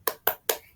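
Three sharp hand claps in an even rhythm ring out close together in a school classroom, each crisp and brief.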